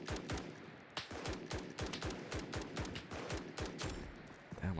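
Rapid automatic gunfire in a Roblox first-person shooter game, a dense run of loud sharp shots with brief gaps and faint voice at the very end.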